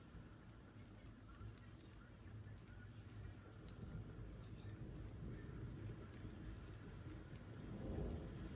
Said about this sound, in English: There's a lot of sparks, lightning sparks in this storm